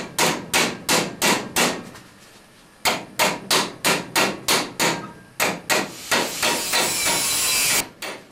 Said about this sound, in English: okay, so far hammering